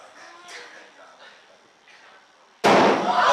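A balloon filled with pure hydrogen ignites with one sudden, loud explosive bang that cuts through the quiet, following a stretch of soft talking.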